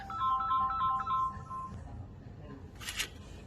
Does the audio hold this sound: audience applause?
no